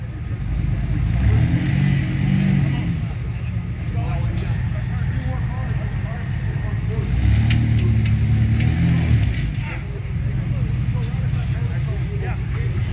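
A rock crawler buggy at a W.E. Rock competition revs its engine in repeated surging bursts while attempting a rear burnover on a rock course, the engine rising and falling under steady commentary.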